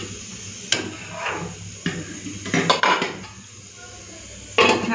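Egg, potato and cauliflower curry being stirred in a pan, with a handful of sharp utensil clacks and scrapes against the metal over a low background hum, close by.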